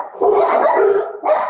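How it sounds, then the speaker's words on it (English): Dogs bark close by, in one long loud bark followed by a shorter second one, with no voices alongside. "sorry, guys, my dogs are barking."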